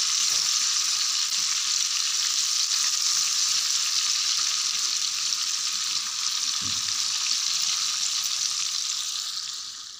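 Fish fingers deep-fry in hot oil, giving a dense, even sizzle that stays loud and constant throughout and fades slightly at the end, with a single faint knock partway through and no voices.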